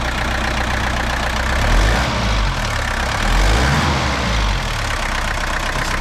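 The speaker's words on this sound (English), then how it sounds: "Nice smooth running engine." A 1973 Mercedes-Benz 220D diesel engine idles steadily nearby, a smooth, low, even rumble with slight swells in loudness and no voices.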